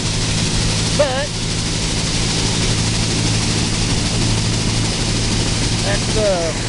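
A John Deere 95 combine engine running rough and losing RPM, heard as a loud, close, continuous drone that holds throughout, with faint voices and brief chirps over it.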